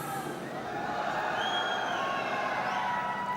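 A large crowd at a gaming LAN festival cheers and shouts for Team Alpha, a steady roar with whistles and high yells sustained throughout.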